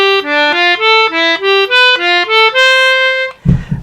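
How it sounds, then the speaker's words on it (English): A melodica plays a bright, reedy melody of sustained stepping notes for about three seconds, then stops abruptly, leaving a short burst of rustling noise. "So that's the sound of a melodica."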